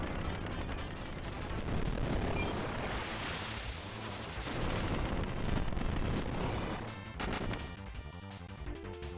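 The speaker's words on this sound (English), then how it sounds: "time for the main cannon" A video game's main cannon fires in a Mario & Luigi Superstar Saga-style battle, giving a long rumbling barrage of booming blasts and crashing impacts that swell and fade over several seconds, without speech.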